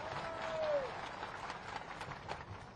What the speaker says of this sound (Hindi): जोरदार तालियां बजाओ